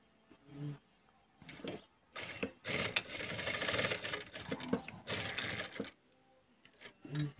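A sewing machine stitches a cloth face mask in several short bursts of close, buzzing whir, with brief pauses between runs and a faint voice at the edges.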